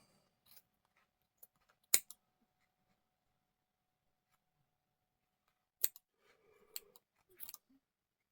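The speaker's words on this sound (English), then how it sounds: "now what we are going to do is to basically cut it off or cut it open" Scissors cut open a piece of crochet work with a few sharp, isolated snips, one crisp cut, then a pause and a quick cluster of clicking snips, close and quiet in an otherwise silent room.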